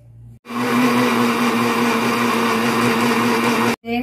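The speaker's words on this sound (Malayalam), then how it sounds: "ഇനി നമുക്കിത് ആവശ്യത്തിന് വെള്ളവും കൂടെ ഒഴിച്ച് അടിച്ചെടുക്കാം" A kitchen mixer grinder whirs steadily at high speed, blending coconut curry paste with turmeric and water for a fish-free fish curry, starting abruptly, running loud and constant for about three seconds, then stopping briefly.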